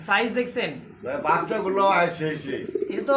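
Pigeons at a pigeon farm coo in throaty, repeated rolling calls close by, overlapping one another and continuing without a break throughout.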